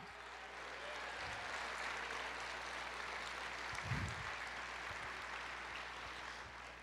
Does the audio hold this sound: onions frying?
no